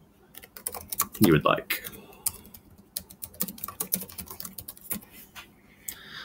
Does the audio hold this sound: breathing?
no